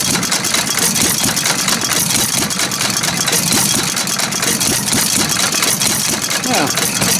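Old Ford 800 tractor engine idling nearby, a loud, rough, uneven chugging that runs throughout, with a voice speaking over it.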